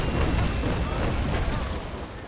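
A ship's cannon broadside fires in the Naval Action naval combat game, a loud sustained rumbling roar of overlapping booms filling the whole clip, with no talk.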